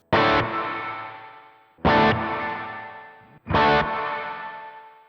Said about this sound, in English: listen to what it sounds like when my decay time is set fairly low